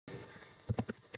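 A few sharp key clicks from typing a command on a computer keyboard, four quick distinct taps close by over a faint background hiss, with no talking.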